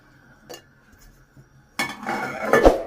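Metal pot lid set down onto a pot of rice cooking with peas, carrots and chicken, a bright clattering clank of cookware with rattling after a quieter stretch of faint knocks.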